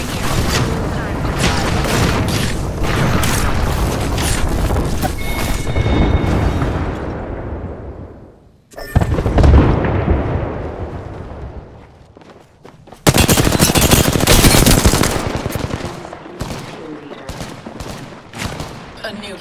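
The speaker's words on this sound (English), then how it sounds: "They're firing on me." Rapid machine-gun fire and explosive bursts from an Apex Legends firefight roll on loud and dense for long stretches, dropping briefly before another heavy volley, with a voice speaking over parts of the combat.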